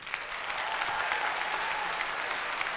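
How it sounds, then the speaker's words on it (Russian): Sustained applause from an audience at a mental arithmetic show, a steady dense clatter of many hands clapping throughout, fairly loud and without talk. "ваши аплодисменты."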